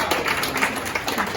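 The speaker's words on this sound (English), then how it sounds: "Let's give a round of applause for Juju." An audience claps briefly for a student at a speech event, producing a steady, dense patter of applause throughout the short moment with no talking over it.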